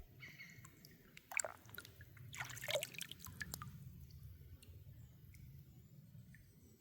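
A small stream trickles softly and continuously outdoors, with faint drips and splashes and a few brief sharper knocks scattered over the low, steady flow.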